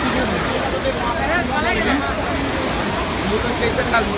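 Rainwater gushes in like a waterfall near a station during heavy rain, a loud, constant roaring rush, with voices talking faintly under it.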